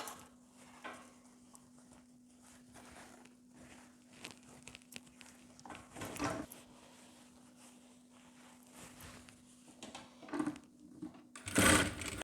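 A home sewing machine stitching a child's jacket, heard as short bursts of rapid mechanical clatter separated by pauses, with a steady motor hum underneath and a louder run near the end, close and without talk.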